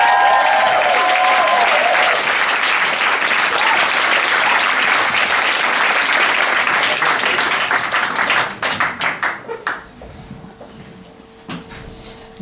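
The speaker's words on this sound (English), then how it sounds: "So give a round of applause, your next comedian and your next professor, Brigitte Martens." A theatre audience gives a comedian a sustained round of dense applause that thins into scattered individual claps and then fades into near silence.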